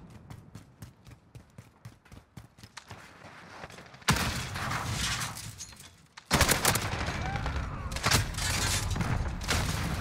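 Light machine gun fire in a video game rattles in sustained, loud bursts, the first part quieter with rapid regular shots and later stretches dense and continuous at close range.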